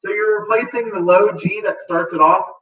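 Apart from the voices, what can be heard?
No distinct noise like a dog, phone or traffic.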